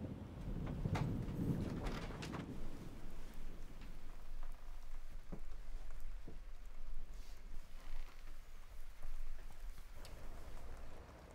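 Light rain patters steadily on a surface, with some wind buffeting the microphone and a few sharper drops.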